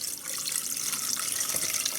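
Regular filtered water poured into a cooking pot with sautéed onions, a steady splashing rush lasting about two seconds, fairly close, with no talk.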